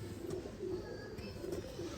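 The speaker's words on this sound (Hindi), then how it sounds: "ये दोस्तों दो कबूतर और कबूतरी नहीं, ये आपके सामने दो चैम्पियन हैं" A breeder pair of champion pigeons coos softly nearby, with several low, throaty rolling calls repeating at a relaxed pace over a quiet background.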